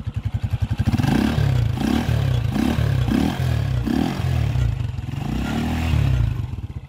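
Thunder Bullet 180cc motorcycle engine idling and being revved, a loud close-up single-cylinder thump with several rising throttle blips and a steady rumbling beat, no talking.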